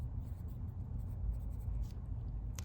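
A soft, continuous scratch of a 5B graphite pencil writing across paper, steady and close with brief lighter strokes, heard alone without talk.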